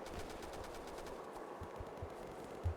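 Rapid bursts of machine gun fire from a World War II shooter game, Easy Red 2, a steady chattering rattle at moderate distance with no talking over it.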